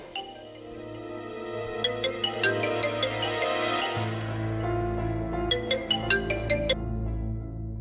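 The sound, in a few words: phone ringing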